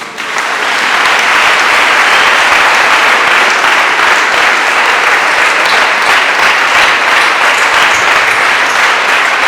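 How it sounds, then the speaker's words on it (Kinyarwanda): A congregation at a gospel gathering bursts into loud, sustained applause, a dense wash of many hands clapping that builds within the first second and holds steady, close and intense, with no voices standing out. "mukomere amashyi"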